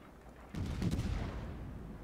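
Warship guns firing in a naval battle game: a heavy distant boom rolls in and rumbles on for over a second over low background noise, with no talk.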